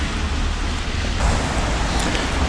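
Steady rain falling outdoors in a yard beside a Blackstone griddle, a dense even hiss of drops spread across the whole clip at constant loudness, with no talk.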